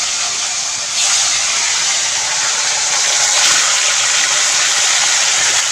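Pieces of freshly caught rohu fish fry in hot oil at home, giving a loud, steady, close sizzling hiss that swells slightly after the first second and keeps going without a break.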